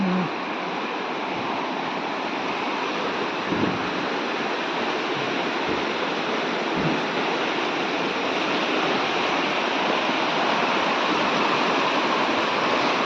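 Swollen river after heavy monsoon rain, rushing steadily with a loud, continuous broadband roar like a waterfall, unbroken for the whole stretch with no talk over it.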